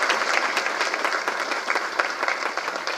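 An audience at a film event applauds a music director, dense sustained clapping from many hands filling the hall, loud and continuous without a break.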